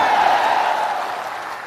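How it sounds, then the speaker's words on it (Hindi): A political rally crowd in Bihar claps together in a dense, steady burst of applause that stays loud throughout, easing only slightly toward the end. "अब बजाइए ताली।"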